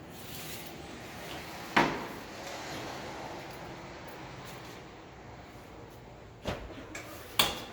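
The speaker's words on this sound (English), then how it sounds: "Now I'm going to shut this door." A bus door shut during a pre-trip inspection: a sharp thud near two seconds in, then two more short knocks toward the end over quiet outdoor ambience.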